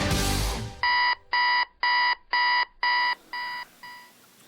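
A digital alarm clock goes off at 5 a.m., beeping loud and close in a steady series of seven short bursts that fade slightly toward the end, after a brief rush of noise at the start.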